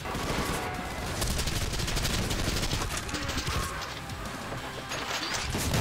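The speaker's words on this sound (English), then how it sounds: "that shotgun's nasty" Shotgun blasts and dense gunfire from a brutal first-person shooter video game, a loud continuous barrage of bangs and crashes filling the whole stretch without pause.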